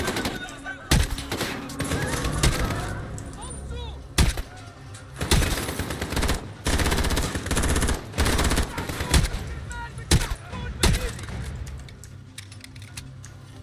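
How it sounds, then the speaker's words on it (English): Gunfire in Call of Duty: Modern Warfare: bursts of rapid fire, loud and close, crackling in repeated volleys with short gaps between them over a noisy game-like background. "I'm tracking you. How? The gunshots, of course."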